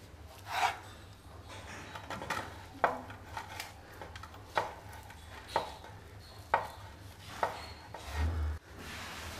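Coconut barfi mixture is moved from a pan into a tray in a home kitchen, giving a series of close, moderately loud scraping knocks at a steady, roughly one-per-second rhythm with no talking.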